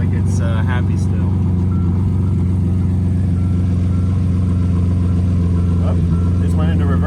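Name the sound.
Lamborghini engine running while shifting into gear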